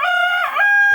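A young rooster crows once, loud and close, a strained harmonic call that rises and holds through the whole second.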